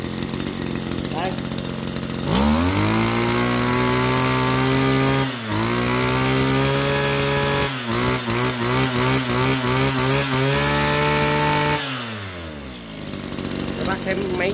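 Kawasaki TD33 small engine running steadily and loud, starting after a short pause, with revs rising and dropping a few times before it winds down near the end.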